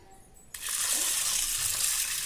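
Water poured from a tumbler onto green gram (whole mung beans) set to soak, a steady close splashing rush that starts abruptly and runs continuously to the end, with no talking.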